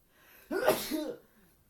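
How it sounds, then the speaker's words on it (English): A single loud, close human sneeze, sharp and about half a second long, in an otherwise quiet indoor space. "that was a good sneeze"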